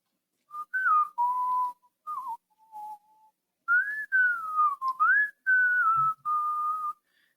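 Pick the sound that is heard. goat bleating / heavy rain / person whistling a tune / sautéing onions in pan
person whistling a tune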